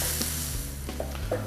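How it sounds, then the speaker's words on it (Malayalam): Onions fry with ginger and garlic in a pan, a close, steady sizzle with a low hum beneath and a few soft stirring knocks. "ഒരു ഗോൾഡൻ ബ്രൗൺ കളർ ആകുന്നവരെ നമുക്ക് നന്നായിട്ടൊന്ന് കുക്ക് ചെയ്തെടുക്കാം"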